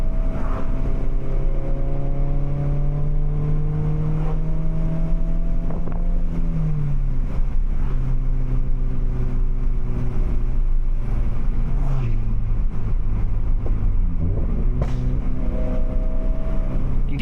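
Small car driven briskly along tree-lined backroads, its exhaust popping and crackling on lift-off over a steady engine drone with heavy wind buffeting; the note rises and drops with gear changes, echoing off surrounding trees.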